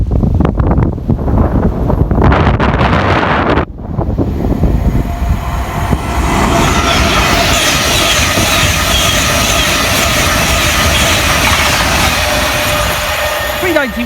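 An Avanti West Coast Pendolino, London Euston to Glasgow Central service, passes Queen's Park station at speed with a loud, sustained rushing roar and heavy wind buffeting on the microphone, easing slightly partway through.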